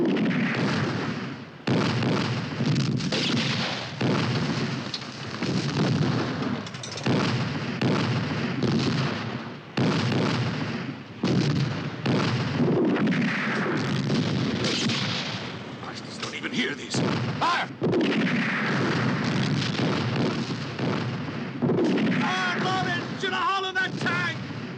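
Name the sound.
artillery gun firing in war film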